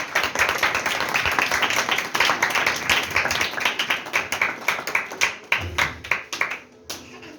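Church congregation clapping together in a loud, dense burst of applause that thins into scattered claps and fades out near the end.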